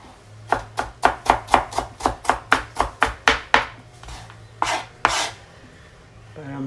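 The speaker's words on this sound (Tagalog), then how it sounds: "Ayan yung ating garlic. Napakalaki yung garlic natin, guys. Ayan, ganun din. Hiwa-hiwain lang natin." A knife chops a very large garlic clove on a board in a quick, steady run of about a dozen sharp strokes, then a few slower, spaced cuts.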